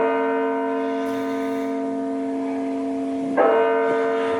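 Church bells ring from a tower in Delft, Netherlands, a loud sustained bell tone with rich humming overtones and a fresh strike near the end, with no talking.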